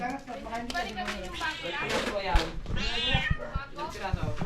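A cat meows repeatedly in a rising, wavering voice, close and fairly loud, while people talk over it during party preparations at home, with a few sharp knocks mixed in.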